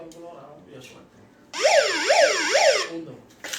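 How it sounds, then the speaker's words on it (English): A wailing emergency siren rises and falls in quick cycles for over a second, loud and close, with muffled voices talking before and after it. "It's the siren."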